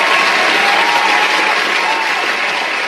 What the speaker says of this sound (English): A round of applause for Miro.